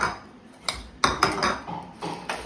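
Newly bought black bowls clink and knock together in a string of light, close, irregular hard taps, with no one speaking.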